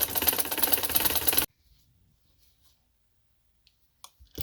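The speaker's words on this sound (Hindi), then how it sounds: "मैं इसको फिर सिलाई लगा लूँ" A sewing machine stitches fabric for a neck design in a fast, loud mechanical whir lasting about a second and a half, then stops abruptly, leaving near silence and a few faint clicks.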